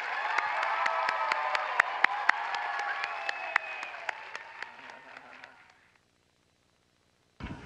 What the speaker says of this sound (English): let's give them a warm round of applause again